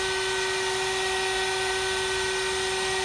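A CNC spindle spins at about 23,000 rpm without cutting, giving off a steady, unbroken high-pitched whine with an airy hiss around it, heard alone for a few seconds.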